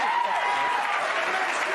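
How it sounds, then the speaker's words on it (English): A studio audience breaks into steady, dense applause that holds evenly throughout, with voices murmuring faintly beneath the clapping. "you're applauding me talking about him"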